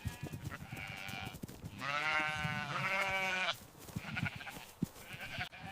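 Sheep returning to their enclosure at sunset give one clear, drawn-out bleat in the middle, with fainter bleats and shuffling livestock noise around it.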